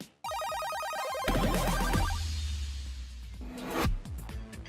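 A burst of bright chiming bell tones, used as a notification sound effect, rings out clearly with a shimmering jingle, followed by a deeper whooshing swell and a second brief flourish, loud and with no talking.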